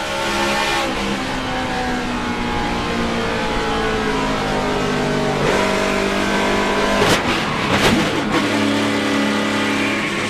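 A race car engine roars at full throttle, loud and sustained, with pitch shifts and a couple of sharp surges near the end; no talking.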